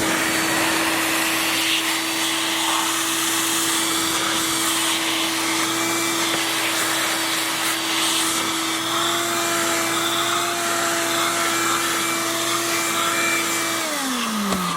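Steady, loud whoosh of a vacuum blower blasting dirt out of a car's interior carpet, running continuously without pause and winding down at the very end.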